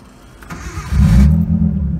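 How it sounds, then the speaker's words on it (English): A Nissan 240SX, right-hand drive, cranks and fires, a brief starter whir followed by the engine catching into a loud, rough rumble that settles into an uneven idle, close by. "The car literally just fired"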